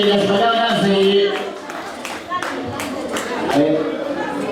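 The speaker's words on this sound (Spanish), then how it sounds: "Fuertes los aplausos." Audience clapping at a live folklore dance event, a loose crowd applause of moderate loudness heard alongside someone speaking over a microphone.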